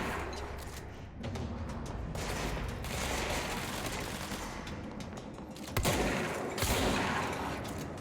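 Heavy gunfire in the video game Control, a dense, continuous fusillade of shots with louder, sharper blasts bursting out near the end, no talking over it.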